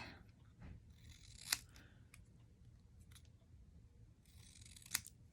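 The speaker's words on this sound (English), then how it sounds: "I'm just going to snip that apart" Scissors snip apart a piece of white cardstock stamped in red ink during a card-making session, giving two sharp, close cuts amid soft paper rustling and handling.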